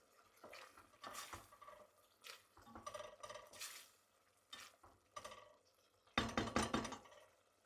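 A spoon stirring bone broth lentil soup in a pot, irregular scraping and clinking strokes in short bursts, close up and quiet, with no talk.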